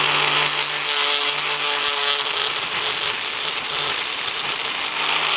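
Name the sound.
sanding a bump off a plastic V-Cube 6 piece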